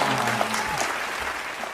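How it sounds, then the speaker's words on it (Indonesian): Applause breaks out from a children's class group, a steady wash of clapping that fills the short stretch at an even level without voices on top. "berikan tepuk tangan"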